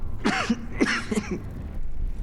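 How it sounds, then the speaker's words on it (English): A game character in Dragon Age: Veilguard lets out a short run of harsh, close coughs, three or four quick bursts in a row followed by quiet room tone. "Why did you cough?"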